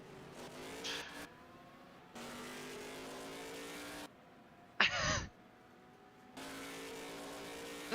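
Racing car engine in the 2000 Sebring 12 Hours sim race with altered gearing, revving in steady held bursts broken by short gaps and one sharp high burst midway, loud and close, with no talk.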